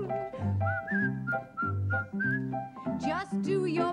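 Cheerful whistled melody, a merry tune carried in clear sustained notes over a bouncy musical backing, loud and continuous throughout.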